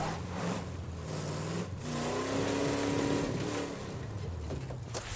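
A car engine revs hard while its wheels slip and spin in State of Decay 2, a sustained, fairly loud roar that rises and falls over a few seconds with no talk.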